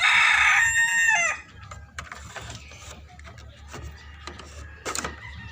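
A six-month-old Sweater gamefowl rooster lets out one loud, close crow in the opening second, then quieter rustling and faint clucks continue in the background.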